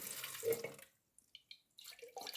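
Sugar brine pours into a glass jar of apples with a brief splashing trickle, followed by quiet and a few faint clinks and drips; no one talks.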